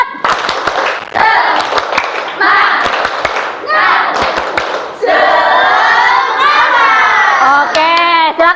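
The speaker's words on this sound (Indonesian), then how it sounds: "Yuk, tepuk semangat." A classroom group does a rhythmic spirit-clapping chant during a teaching performance at a school, with bursts of sharp patterned claps and loud children's voices shouting and chanting along throughout.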